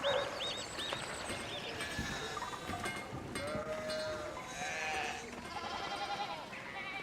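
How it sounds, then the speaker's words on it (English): Sheep bleating in the Pentiment video game, several overlapping calls of moderate loudness blended with game ambience and a faint cowbell-like clink. "Sheep still in the way."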